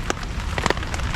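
Heavy rain drums on a camping tarp at a woodland stream camp, a dense steady patter with a few sharper drops standing out, close and continuous with no talk.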